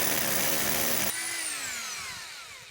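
A power drill with hammer mode switched off bores through an exterior house wall, a loud, steady grinding whine for about a second before the motor cuts out and winds down with a falling pitch.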